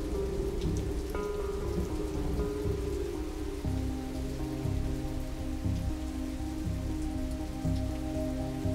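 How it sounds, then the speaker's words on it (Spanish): Steady rain patters across surfaces through a stormy night, with a low rumble of thunder beneath the downpour; no voices, just a continuous, moderately quiet wash of falling water. "la noche de lluvia, truenos y relámpagos que padecemos"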